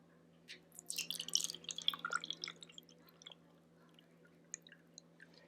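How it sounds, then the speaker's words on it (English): Water poured from one cup into another, producing faint, close trickling and dripping splashes that cluster at first and then thin to a few isolated drops over a low steady hum. "I'm going to lift it up and I'm going to pour it from this cup into"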